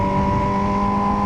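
A Kawasaki ZX4RR motorcycle fitted with a full exhaust revs close by in a loud, sustained, high-pitched buzzing drone with strong resonant tones, heard alone.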